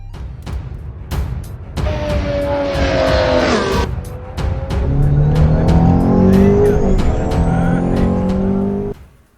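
A Ford GT GTE race car in the Assetto Corsa sim racing game revs hard and shifts through gears, engine pitch climbing repeatedly with tire squeal, loud and continuous until it cuts off.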